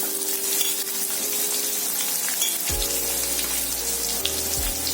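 Three finely chopped onions fry in a pan with a steady hiss and sizzle, close and continuous, while a low hum and occasional stirring sounds run underneath, with no talking.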